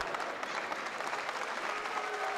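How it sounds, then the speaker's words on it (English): Crowd applause for wrestler Luke Hawx at a steel cage match, a steady wash of clapping filling the arena, fairly loud and continuous without letup. "There's a nice show of applause here for Luke Hawx."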